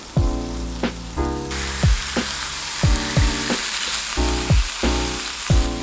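Pork belly marinated in Korean spicy sauce sizzles steadily in a hot pan, with a close, constant frying hiss broken by regular clanks of stirring against the pan, and no talk.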